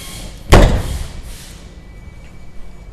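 Rear doors on an Isuzu NPR HD landscape chemical spray truck swing open with one sharp, loud metallic clunk, followed by a fading rattle and quiet background.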